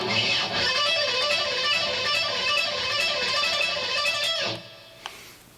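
Rock electric guitar lick played fast, a dense continuous run of bright distorted notes for about four and a half seconds, then cutting off with a short pick scrape and fading ring.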